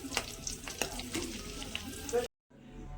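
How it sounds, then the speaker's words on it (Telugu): Seeds and gongura paste sizzle and crackle in hot oil while being stirred, with scraping clicks over a steady fry. The sound cuts out briefly near the end, then a fainter sizzle returns. "ఒకసారి కొంచెంసేపు ఆయిల్లో ఫ్రై చేసుకోవచ్చు. కొంచెం ఆయిల్ వేసుకొని తర్వాత గింజలు వేసుకోండి"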